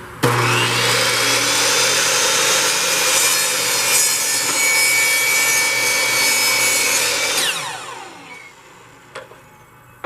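A miter saw cuts through a special piece of wood, a loud, steady, close rasping whine that holds for about seven seconds, then winds down as the blade spins to a stop, followed by a soft clack.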